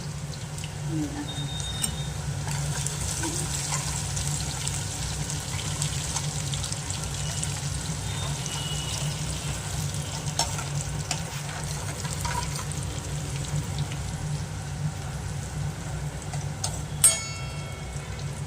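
Tempering with asafoetida, curry leaves and garlic fries in hot oil for a dry methi curry, a steady close sizzle with occasional stirring clinks running throughout, with voices talking over it.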